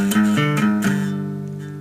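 Electric guitar plays the opening part of the main riff of a song: a few sharp, chugging struck notes that ring out and decay into a sustained tone, close and alone with no talking.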